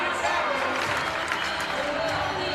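Crowd noise and applause fill the gym during a state high school volleyball semifinal, a steady broad roar of clapping and cheering with no clear breaks.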